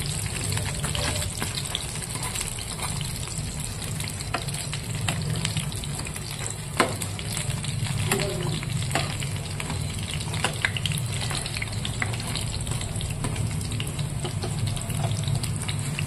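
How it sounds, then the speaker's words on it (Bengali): Curry leaves fry in hot oil with a continuous crackling sizzle, close and even, spotted with sharper pops and no talking. "এবার আমি কারি পাতাটা ভেজে নেব।"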